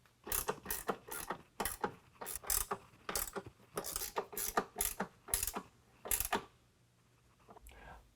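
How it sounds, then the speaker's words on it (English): A ratchet with a 13 mm socket tightens bracket nuts while a running board is installed on a 2018 Ford F-150 Raptor, giving quick bursts of close clicking strokes separated by short pauses. "go ahead and tighten them down with a 13 millimeter."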